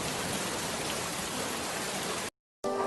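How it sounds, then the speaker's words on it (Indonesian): Steady rain falls, a dense, even hiss of water continuing with no talk, then cutting to silence for a moment before resuming briefly. "sehingga jatuhlah air ke bumi yang disebut sebagai hujan"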